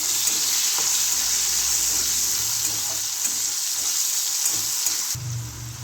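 Chopped tomato with salt frying hard in a pan, a loud, dense, continuous sizzle with stirring, easing off slightly near the end, with no voices.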